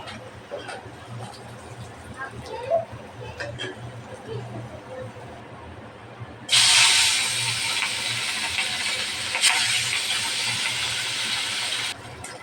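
Fish dropped into hot oil, a sudden loud, bright sizzle bursting in after a quieter stretch of kitchen sounds and holding steady for several seconds before cutting off.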